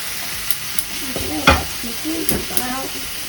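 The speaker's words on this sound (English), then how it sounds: "I'm lowering the heat on these meatballs to medium." Gluten-free, low-FODMAP meatballs sizzle steadily in a hot pan over medium heat, and a few close scraping stirs and clacks of a utensil sound against the pan.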